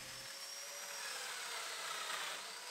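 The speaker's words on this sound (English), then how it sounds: "And I used the domino to cut some 8mm mortises." A domino joiner plunges into wood to cut 8mm mortises, giving a steady, high-pitched motor whine that holds nearly constant throughout, close and alone.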